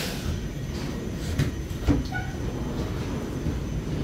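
A ten-car silver-green Taiwan Railway EMU900 electric multiple unit departs Hukou station on a service to Hualien via the North-link line, giving a steady, fairly distant low rumble with a couple of brief faint tones and no talk.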